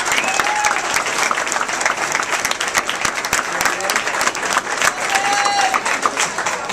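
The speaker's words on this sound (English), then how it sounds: "Let's give Aaron a round of applause." Loud, dense applause from a college baseball team gathering honoring an assistant coach, steady clapping with some crowd noise and a few whistles throughout.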